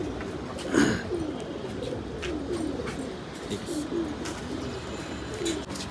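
Tournament racing pigeons from 105 km events give soft, repeated low coos in a quiet loft, one louder call early and fainter calls spaced evenly after, with faint background noise and no talk.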